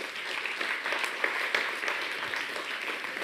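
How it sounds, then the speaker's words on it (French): Audience applause during a French stage lecture on critical thinking: a steady wash of many hands clapping at moderate distance, holding an even level for a few seconds with no voices on top. "Vous pouvez quand même l'applaudir pour son engagement."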